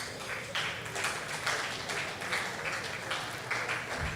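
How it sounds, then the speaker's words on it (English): An audience at a technology summit claps steadily in a large hall, dense sustained applause running the whole time with no break. "Please give yourselves a round of applause."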